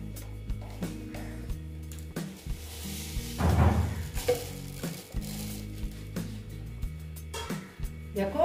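Mustard seeds crackling and sizzling in hot white oil in a pan, a busy stream of small pops and hiss under a steady kitchen background, with one louder burst of spattering midway.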